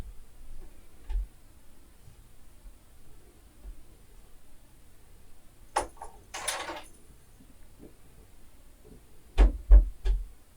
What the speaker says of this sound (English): that was the sound of the kitty door.